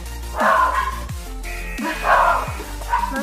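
Dogs barking in two loud bursts close by, each bark followed by a falling whimper-like tone, heard over steady background music during a home workout.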